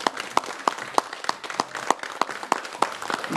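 An audience gives applause at a tourism anniversary gathering in Curaçao, with sharp, evenly spaced claps standing out close by over lighter background clapping from a small crowd.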